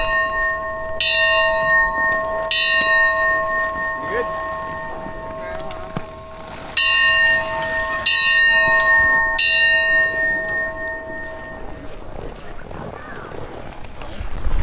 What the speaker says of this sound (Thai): เราให้มาสั่นกระดิ่งนะฮะ Ring my bell ระฆังแห่งความรัก